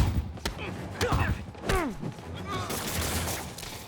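Enemy gunfire crackles in scattered bursts in Marvel's Spider-Man Remastered, mixed with thuds and whooshing swoops of game action.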